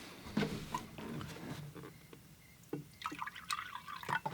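Fresh clean water poured into a painter's rinse container, a close, soft liquid splashing and trickling with small drips and gurgles that rise and fall over a few seconds.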